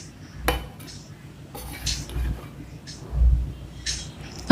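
A spatula scrapes and clanks against a pan while egg fried rice is stirred, giving irregular metallic knocks and rustling bursts at close range with a low background hum.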